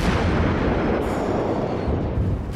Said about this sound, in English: we're engaging the enemy Kumar, who we are actually lobbing armor piercing at him